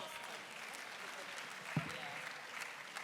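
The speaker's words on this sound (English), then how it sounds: "Another round of applause for the panel, please." Applause from a conference audience for a panel at an annual political-participation session, a steady spread of many hands clapping at moderate distance with one brief louder thump partway through.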